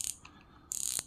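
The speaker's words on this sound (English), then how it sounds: "Loosening the drag, tightening the drag. It's really nice. A decent sound that it makes if you're going to get a line pull." Close-up clicking from a budget fishing reel's drag ratchet as it is loosened and tightened: a short rattling burst, a brief lull with faint ticks, then a longer, denser run of rapid clicks.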